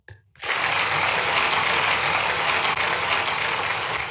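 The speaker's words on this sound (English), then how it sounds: "please give them with a big round of applause" Dense, sustained applause from an audience at a regional event ceremony starts abruptly after a brief pause and continues evenly, loud and close.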